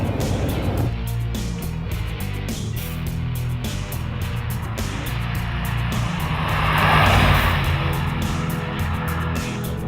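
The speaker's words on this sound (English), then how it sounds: "fitted with Land Rover's all-new 5-litre V8 supercharged engine, which delivers a mighty 505 brake horsepower" Land Rover Range Rover Sport with a 505 bhp 5-litre supercharged petrol V8 driving, a steady loud engine roar with a swelling rush near the end and no talk.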